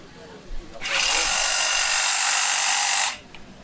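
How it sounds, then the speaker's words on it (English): A standard tube cutter bores into number 9 rebar, giving a harsh, loud grinding screech that holds steady for about two seconds and then stops abruptly. "So this is the standard tube cutter when it hits rebar."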